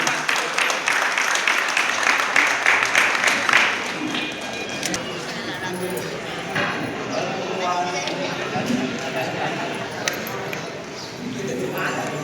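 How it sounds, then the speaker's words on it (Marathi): An audience at a bhajan celebration in a hall claps in a dense burst that fades after a few seconds, and voices continue over a softer background murmur. "एकदा खरंच बरं का तुझा टाळ्या वाजवा माऊलींसाठी"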